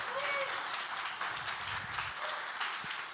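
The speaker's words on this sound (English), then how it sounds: "You can clap." Applause from a congregation at a live church event, a steady wash of clapping lasting throughout, with faint voices and a few tonal sounds mixed in underneath.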